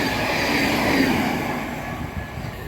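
A Class 700 electric train passes close by, with a loud steady rumble of wheels on rail and a faint high squeal, fading slightly toward the end.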